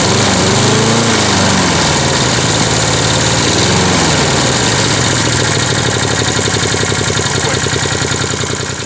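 A Wolf PM-Quantum 35 lawn mower engine runs steadily and loudly up close, a constant buzzing drone with a slight wavering pitch throughout.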